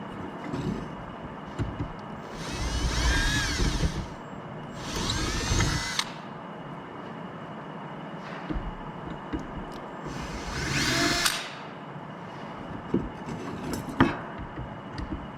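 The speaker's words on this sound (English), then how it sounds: "I just need to final drill that. I think it's with a 1/4 inch bit" A power drill with a 1/4 inch bit whirs in three loud bursts, spinning up and boring into powder-coated aircraft parts, with quieter clanks and shop noise between them.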